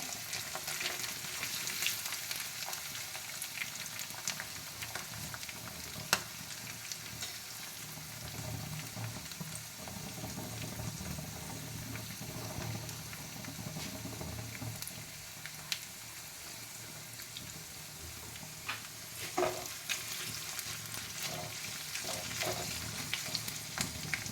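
Green chillies fry in hot oil in a pan, a soft continuous crackling sizzle with occasional louder pops and light stirring, steady and fairly quiet throughout.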